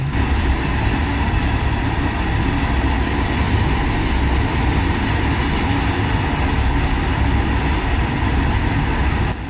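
A long freight train thunders past close by in the hills of Araku, a loud continuous roar with steady clattering of wheels on the rails.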